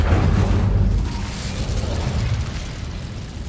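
The Incendio fire spell goes off in a Harry Potter video game as a loud, rumbling whoosh of flame that fades gradually over a few seconds, with no voice over it.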